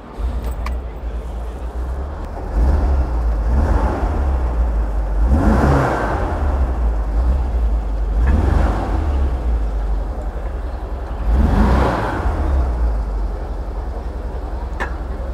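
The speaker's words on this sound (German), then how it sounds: "ich möchte euch den Motor starten" VW Beetle fitted with a Porsche engine, a not-yet-tuned classic car, rumbles steadily with several rising revs, moderately loud and close, without talk.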